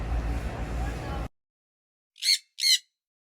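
A pet bird gives two short, sharp squawks in quick succession, close and clear against silence, following a stretch of steady background noise.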